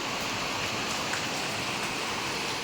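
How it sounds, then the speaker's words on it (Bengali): Steady rain pours down evenly, a dense hiss of drops hitting a surface throughout with no pauses. "এখন বেশ সুন্দর বৃষ্টি হচ্ছে"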